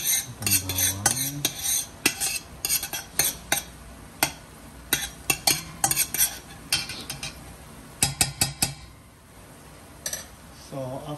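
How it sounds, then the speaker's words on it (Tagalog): Garlic being stirred in a pan while cooking chicken tinola, with repeated sharp scrapes and clinks of a utensil against the pan over a faint sizzle, and a brief voice near the start. "Ayan, i-mix-mix lang natin ang bawang."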